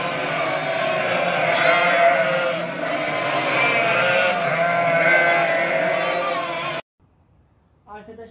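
Sheep and lambs on a farm bleat loudly together in a dense, overlapping chorus for several seconds. The chorus then cuts off abruptly to near silence, and a faint brief sound follows at the end.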